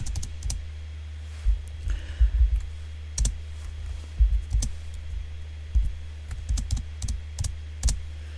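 Keys tapped on a computer keyboard in short irregular bursts of clicks, with a quick run of strokes around two seconds and scattered single presses later, close and fairly quiet over a low steady hum.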